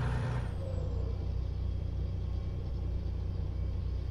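DAF truck in Euro Truck Simulator 2, hauling steel coils on its own trailer: a steady, loud, deep engine drone with a brief air-brake-like hiss at the start, continuous with no talking.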